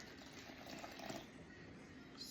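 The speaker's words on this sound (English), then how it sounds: "And then you're going to start adding water." Water poured into a bowl of mixed seasonings, a soft steady trickling and splashing close by, low and continuous with no talk.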